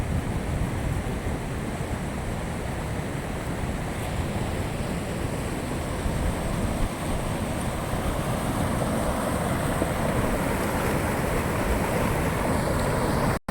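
Ghee river water rushing past Bhatgam village near Jam Khambhalia, Devbhumi Dwarka, a steady dense roar of flowing water with wind buffeting throughout, loud and continuous with no voices.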